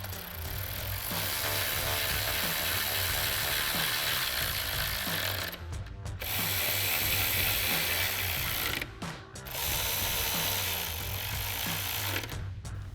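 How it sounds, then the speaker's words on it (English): Ratchet with a 10mm socket tightening headlight bolts on a Jeep Wrangler JL during a Morimoto LED headlight install, a steady, fast clicking run going on for seconds at a time with two brief pauses, close and fairly loud, no talk. "Now we can tighten them down with our 10mm socket."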